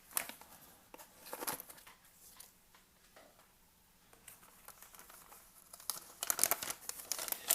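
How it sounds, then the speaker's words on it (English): A plastic MRE ration heater package is ripped open along its tear line close by, producing faint crinkling and tearing rustles that build into louder crackling toward the end, with no talk. "let's get the ration heater going before we plate the rest of this stuff up. We have a tear line on top."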